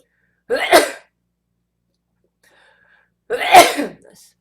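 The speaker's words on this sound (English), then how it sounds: "I feel like I'm going to sneeze." Two sharp, loud sneezes a few seconds apart, each a quick burst with silence around them.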